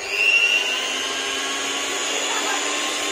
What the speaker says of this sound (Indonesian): Sudah kita campurkan ke baskom dan kita sekarang mixer ya.